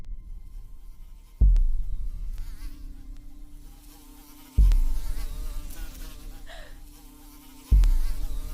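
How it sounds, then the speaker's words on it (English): A mosquito's high, thin buzz drones steadily on its own, close and loud, broken by three heavy thumps spaced a few seconds apart, with no speech. "Don't let mosquitoes ruin your day."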